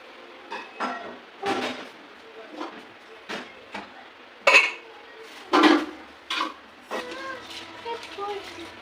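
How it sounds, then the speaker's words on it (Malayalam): Rice is swished and rattled in a metal pot, irregular bursts of sloshing and scraping with clinks, close, and a voice speaks now and then. "ഇനി അരി കഴുകട്ടെ കേട്ടോ"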